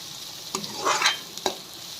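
Ivy gourd (dondakaya) fries in oil with spices. A soft sizzle sits under a few distinct stirring scrapes, with one fuller swirl of noise in the middle, all heard close and fairly quiet.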